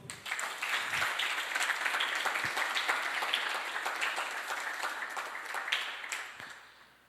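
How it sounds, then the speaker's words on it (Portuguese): A church congregation of men and visitors breaks into sustained applause, a dense wash of clapping from many hands holding steady for several seconds before tapering off at the end. "Vamos aplaudir o Senhor?"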